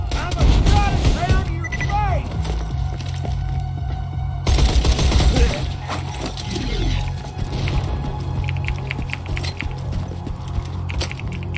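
Big snowballs are fired as a Borderlands 2 weapon, making dense rapid bursts of loud game fire with roaring, mechanical effects and a continuous layered sound bed, no voices.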